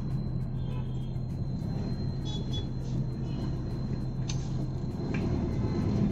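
Royal Enfield diesel Bullet motorcycle with chrome plating, its engine idling steadily as it reverses, a continuous low rumble with faint higher whine, no talk.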